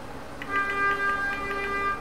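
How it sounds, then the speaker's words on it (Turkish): A natural gas city bus horn in OMSI 2 sounds a steady two-tone honk for about a second and a half, loud and close, with no talking over it. "Böyle de bir kornamız var."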